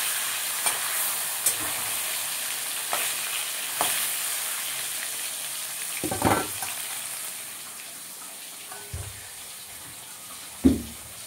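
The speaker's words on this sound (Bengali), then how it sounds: "কড়াইতে তেল দিয়েছি, মাছ ভাজবো।" Bhola (poa bhola) fish fry in oil in a wok, giving a soft continuous sizzle under a series of sharp utensil knocks and scrapes at irregular intervals, close by, with no talking.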